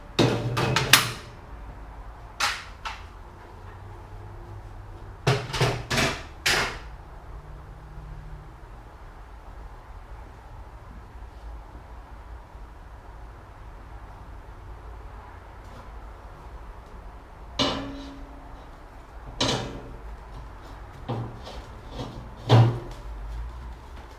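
Steel ribs fitted onto a CertiFlat Pro welding table, loud clustered metallic clanks and knocks as the parts drop into their slots, separated by long quiet stretches, with no talking.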